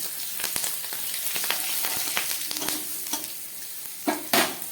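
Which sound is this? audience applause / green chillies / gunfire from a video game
green chillies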